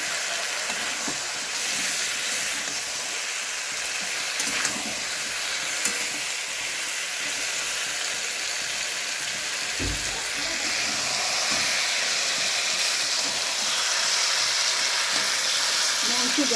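Potatoes frying with red chili powder in a pan for a Bengali chicken kosha, a steady close sizzle with occasional stirring clinks and scrapes, no voices.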